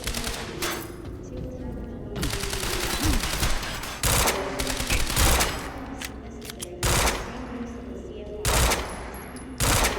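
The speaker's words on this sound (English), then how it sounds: "Got a little burst fire." Burst-fire gunfire in the video game Quantum Break, loud repeated short bursts of rapid shots at irregular intervals across the scene, with someone talking between and over them.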